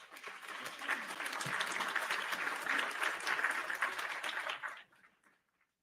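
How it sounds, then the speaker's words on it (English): A live audience gives a steady round of clapping that holds strong for several seconds, then tapers off quickly into near silence. "Let's give her a round of applause."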